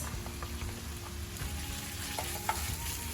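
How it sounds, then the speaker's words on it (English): Diced onions frying in coconut oil with garlic and ginger, a steady close sizzle and crackle with faint stirring clicks throughout, no voices. "At this stage, I'm gonna put in my diced onions."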